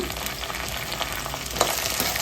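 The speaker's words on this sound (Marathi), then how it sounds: "फोडणीमध्ये कांदा छान तळल्या गेलेला आहे" Onion, curry leaves, dried coconut slices and green chili fry in a hot oil tempering for chivda, giving a steady, close crackling sizzle with faint stirring scrapes throughout.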